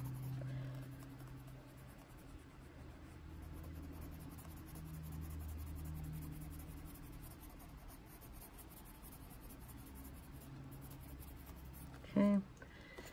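Colored pencils in raspberry and rosy clay shades stroke softly and steadily across paper while coloring a double-page bird illustration, with faint scratchy rubbing under quiet talk and a brief louder tap near the end.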